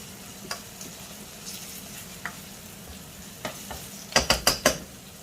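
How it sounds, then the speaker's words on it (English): Onions and garlic frying in a pan before lamb mince goes in for a moussaka: a soft, continuous sizzle with occasional utensil taps, ending in a quick run of four sharp clacks. No one speaks. "you can see the onions are cooking really well with the garlic"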